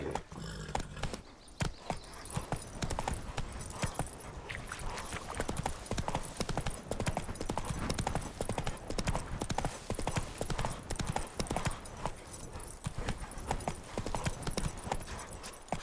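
Galloping horse hooves from The Witcher 3 video game, a fast, steady clip-clop rhythm up close throughout, with a brief neigh and a rider's voice urging it on.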